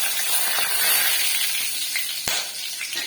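Cinnamon, cloves, cardamom, fennel and bay leaf sizzle in hot oil in a pan for chicken curry, a loud steady hiss with one sharp crackle partway through.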